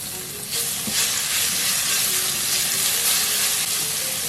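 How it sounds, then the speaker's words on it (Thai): Chopped garlic stir-frying in hot oil for fried garlic chive cakes, a steady loud sizzle with a slight surge after the first half second, running continuously with no talk. "ทีนี้ใส่กระเทียมสับครับ ลงไปผัดให้หอมเลยนะครับ"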